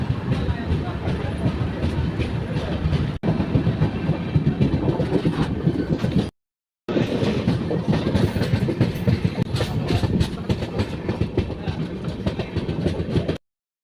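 The Bhavnagar-Kakinada Port superfast express rumbles steadily along the rails, a dense, loud clatter of wheels and carriages heard from on board, broken once by a brief dropout.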